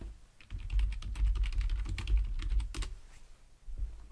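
Rapid typing on a computer keyboard, a close, dense run of light key clicks lasting a few seconds with a brief pause near the end.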